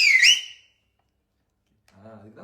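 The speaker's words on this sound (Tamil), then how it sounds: "அந்த மாதிரி விசில் அடிங்கன்னு கேட்கறாங்க" A person whistles a short, loud, shrill rising-and-falling note in celebration during an interview, followed by silence and then a voice speaking softly.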